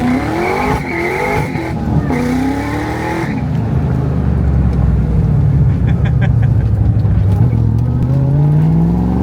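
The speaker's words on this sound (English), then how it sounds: "This car is finally running." A loud C6 Corvette engine revs and drones steadily, its pitch climbing and falling, with some tire squeal and a rough racing tone.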